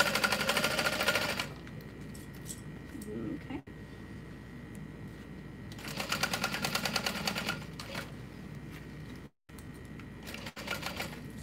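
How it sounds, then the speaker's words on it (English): A sewing machine backstitches seams on a small beachcomber pouch, with a rapid mechanical stitching rattle in two close bursts separated by a quieter stretch. "I'm also gonna backstitch over my accent pieces to just kind of reinforce that."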